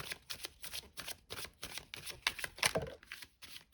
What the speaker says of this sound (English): One last shuffle. And divide the deck.